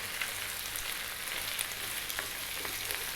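Large florets of cauliflower and potato curry for aloo gobi masala sizzle softly in a frying pan as they are stirred, a faint, even crackle with light scraping and no talk.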